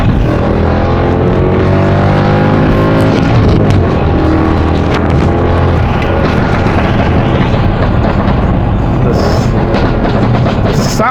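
A Mercedes C63 AMG W204 with a pops-and-bangs remap roars loudly while driving on an open road, the V8 engine and exhaust rising through the gears with a dense, rumbling drone throughout.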